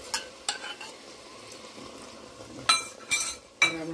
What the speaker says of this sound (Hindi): हम इसको अच्छी तरह थोड़ी थोड़ी देर बाद इसको हिलाते रहेंगे और हम इसको भूनते रहेंगे मसाले को